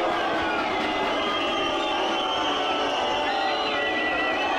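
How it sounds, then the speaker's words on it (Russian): Shinnik football fans whistle shrilly over a steady crowd roar during the penalty shootout of a Russian Cup match against Sochi, with piercing wavering whistles rising near the end. "Болельщики Шинника свистят"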